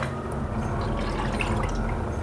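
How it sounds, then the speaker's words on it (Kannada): Cooking oil pours into a pan for frying chicken kabab, a soft, continuous liquid trickle and glug lasting a couple of seconds, fairly quiet and close, with no voices. "ಈ ಕಬಾಬ್ ಮಾಡೋಕ್ಕೆ ಎಣ್ಣೆ ಹಾಕ್ತಿದ್ದೀನಿ."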